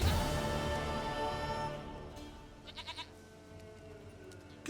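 A goat in The Witcher 3: Wild Hunt bleats in a loud, wavering call at the start that fades, followed by a few short, softer sounds, with no talk.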